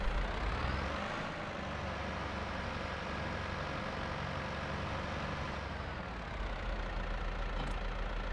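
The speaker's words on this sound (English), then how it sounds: "And get our harvester warmed up." Combine harvester engine idling in Farming Simulator 22, a steady low rumbling drone that holds at an even, fairly loud level for the whole stretch with no talking.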